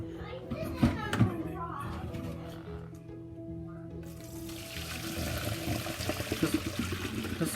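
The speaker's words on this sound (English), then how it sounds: "Okay, we drain the water." Water from boiled shredded potatoes is poured off from a container into a sink, a steady rushing pour building in the second half, with clattering and children's voices in the background.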